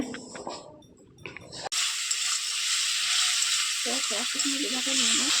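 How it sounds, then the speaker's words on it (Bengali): Ginger, garlic and cumin paste fries with a splash of water in a pan, a sudden loud hiss that stays strong and steady after a quieter opening with some clatter, with faint stirring underneath. "এইবার আমি সামান্য জল দিয়ে ভালোভাবে মশলাটাকে কষিয়ে নিব কিছুক্ষণ ধরে"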